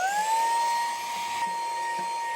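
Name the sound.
vacuum machine running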